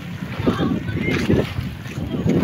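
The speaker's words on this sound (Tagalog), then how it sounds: "Ayan ang alon." Sea waves wash against a seawall at a beach park in Panabo City, Davao del Norte, heard as rolling low surges under heavy wind buffeting the microphone, with a voice faintly present.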